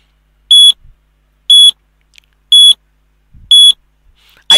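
An electronic timer alarm beeping in four evenly spaced, loud, high-pitched bursts about a second apart, with near silence between them and no talking.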